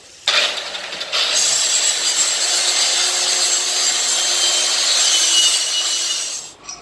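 Debris is scrubbed off a metal boat propeller to prep it for welding, a continuous loud abrasive grinding rasp that starts abruptly, pauses briefly, then runs steadily for several seconds before cutting off.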